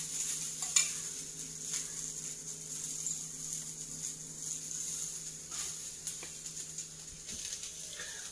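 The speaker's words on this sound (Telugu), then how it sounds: "ఆయిల్ బాగా హీట్ అవ్వాలండి హీట్ అయిన తర్వాత మనకు వంట కూడా ఫాస్ట్ గా తొందరగా అయిపోతుంది" Oil heats in a pan on the stove for a curry, a faint steady sizzle with a few soft clicks and stirring taps.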